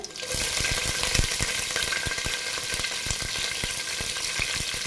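Curry leaves and green chillies sizzling in hot oil in a home kitchen pan, a steady loud frying crackle with frequent stirring scrapes throughout, no voices.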